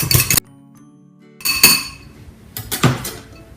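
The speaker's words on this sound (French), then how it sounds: "Je vais uniquement récupérer le blanc et je vais le battre légèrement." Egg white being lightly beaten with a utensil against a glass bowl, giving three quick bursts of rapid clinking and whisking separated by short pauses, close and fairly loud.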